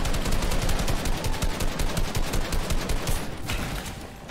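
Rapid automatic gunfire sprays in a continuous burst, loud and close, with dense repeated shots that ease off slightly near the end.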